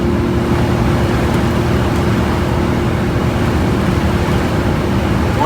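Vintage Greyhound bus cruising on the highway, a steady loud drone of engine and road noise with a sustained low hum and no voices.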